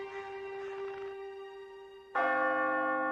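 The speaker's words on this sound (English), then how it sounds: "But throughout the North, church bells tolled for him." A church bell tolls with a long ringing hum, then a second louder strike sounds and rings out with rich overtones.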